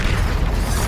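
The Confringo blasting spell bursts in the Hogwarts Legacy video game, a loud, dense, rumbling explosion that fills the whole brief moment without a break.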